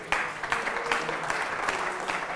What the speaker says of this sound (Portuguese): Dê um aplauso ao Senhor, meu Deus.